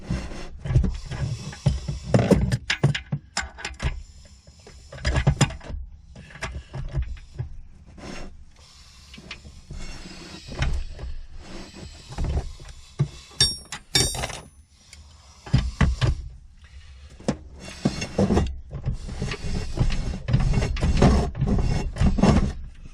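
Honda B20B4 VTEC engine being turned over by hand during teardown, giving a series of irregular mechanical clicks, clunks and ratcheting rattles that come and go close by, with no talking.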